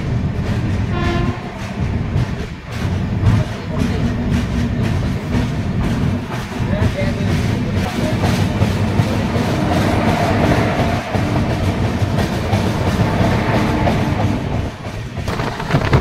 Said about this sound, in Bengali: কিছুক্ষণ দাঁড়ানোর পর ভদ্রক থেকেও ট্রেন ছেড়ে দিয়েছে